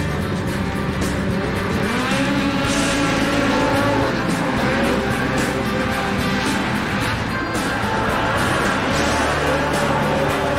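Many snowmobile engines roar and rev together at a snocross race start in a loud, continuous, dense blast of motor noise that barely changes through the clip.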